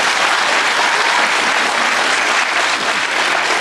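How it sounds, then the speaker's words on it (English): A television cooking show's studio audience gives a round of applause, a dense, bright wash of many hands clapping that holds steady and loud for the whole few seconds. "Give me a round of applause for that."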